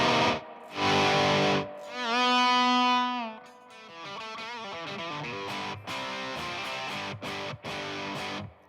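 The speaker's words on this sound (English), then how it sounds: "with the volume pedal after, you're just turning down the overdriven tone" Overdriven electric guitar played through an overdrive pedal with a volume pedal placed after it, strummed chords and sustained notes swelling and dropping in level while the distorted tone stays constant, loud and close with no talking.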